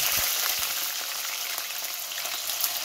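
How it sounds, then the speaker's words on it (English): Potato wedges deep frying in mustard oil for aloo gobi, giving a steady, dense sizzle and crackle of bubbling oil close by with no talk. "we're gonna go ahead and deep fry some potato wedges and deep fry the gobi."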